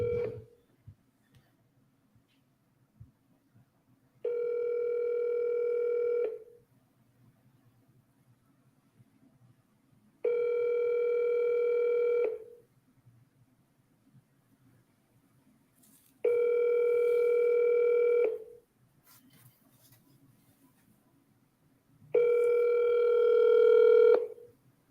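A telephone ringback tone on an outgoing call, heard as four evenly spaced buzzing tones, each about two seconds long, separated by quiet gaps of roughly four seconds.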